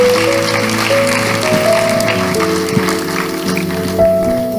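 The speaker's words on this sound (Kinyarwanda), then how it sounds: "Tugukomeye amashyi Imana" A church congregation applauds in praise to God, a steady, dense wash of clapping that runs throughout alongside sustained keyboard notes.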